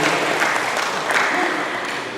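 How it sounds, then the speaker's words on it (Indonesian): An audience claps inside a mosque during a Ramadan community gathering. The applause is dense and continuous, fairly loud and sustained, with a murmur of voices mixed in. "Dalam masjid tepuk tangan lah Bu."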